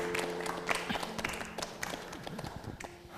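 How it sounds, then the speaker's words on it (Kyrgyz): A studio audience breaks into applause on a Kyrgyz television talk show, a busy patter of claps at moderate volume mixed with faint background music. "Бакыт мырза, кол чабып коелу."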